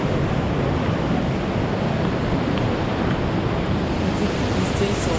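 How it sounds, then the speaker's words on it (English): Steady, dense rush of falling water at a waterfall in the Philippines, a constant broadband roar with no breaks, heard close and fairly loud. "the sound of the waterfall."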